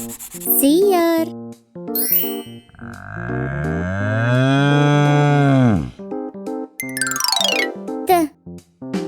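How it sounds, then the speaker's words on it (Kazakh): A cow gives one long, loud, drawn-out moo that swells and then cuts off. It sits between short spoken syllables from a child-like voice and bright chiming jingles. "сиыр"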